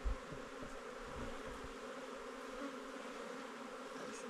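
Bees swarm and buzz during a honey harvest by a nomadic beekeeper, a dense, continuous droning hum filling the whole stretch at moderate level, with a brief thump at the start and no talk.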